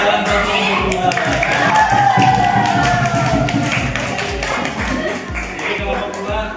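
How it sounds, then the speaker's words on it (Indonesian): Classroom of students applauding group 2, a steady run of many claps lasting several seconds, close and lively, with voices mixed in. "Tepuk tangan buat kelompok 2"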